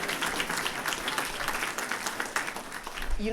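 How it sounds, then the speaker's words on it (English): Alumni at a reunion lecture with the Dean of Engineering applaud the class reps, a dense, steady round of clapping from a sizable crowd that continues evenly throughout. "Let's give them a round of applause, because they do a lot of work on all of your behalf."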